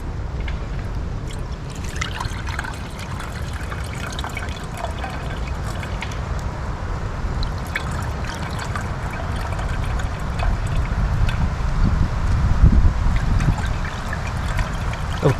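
Water trickles and splashes steadily through a bandana filter outdoors while being collected from a shallow source, a continuous dripping, pouring wash that swells slightly louder toward the end.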